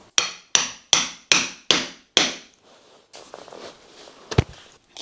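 Six sharp hammer blows ring out in a steady rhythm as an awl is driven through the welt, outsole and insole around a leather shoe heel, followed by quieter handling and shuffling and one last knock.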